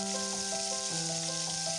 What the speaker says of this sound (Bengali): এবার একটা একটা করে পটল আমি ছেড়ে দিচ্ছি গরম তেলে, একটু ভেজে তুলে নেব।